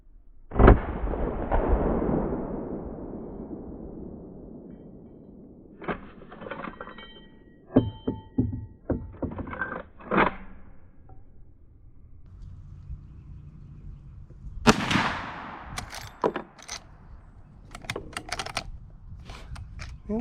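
A Henry H010B rifle fires Winchester ammunition outdoors: two sharp, booming shots with long decaying echoes, separated by a stretch of quieter mechanical clicks and handling noises.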